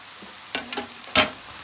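Broccoli and peppers with cilantro being stirred in a pan, a few short scraping, tossing bursts with a faint sizzle between them, close and alone.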